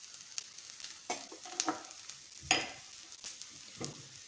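An egg omelette cooks in oil in a pan, a steady hiss of sizzling punctuated by several sharp spits and pops at irregular intervals, close up and moderately quiet.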